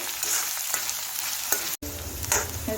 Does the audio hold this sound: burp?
no